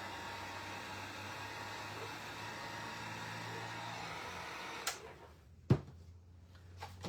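A heat tool blowing a steady, moderately loud airflow over fresh paint on a wooden beadboard farmhouse sign, then switching off, leaving a few sharp clicks and knocks in a quieter room.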